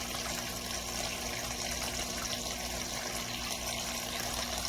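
Water runs steadily through a Super Sluice gold sluice outdoors, a constant close rushing flow with even loudness throughout and no speech.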